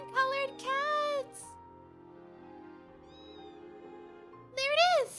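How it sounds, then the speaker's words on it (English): A cream-colored cat in the video game Trails of Cold Steel III meows in a few drawn-out, rising-and-falling cries, two close together at the start and another at the end, over quiet background music. "It's the cream-colored cat!"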